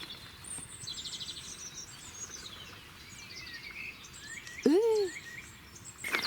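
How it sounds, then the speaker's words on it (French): Small birds chirp and trill in the Normandy countryside, faint and a little distant, with light insect buzz beneath and a louder call near the end. "c'est des petits oiseaux qui chantent"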